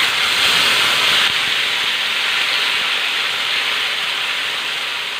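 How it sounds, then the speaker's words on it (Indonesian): Boiled salted squid sizzles loudly in hot oil in a wok, a constant bright hissing spatter that holds steady and eases slightly toward the end, with no one speaking. "Kemudian kita akan goreng, siapkan wajan dan juga minyak secukupnya ya."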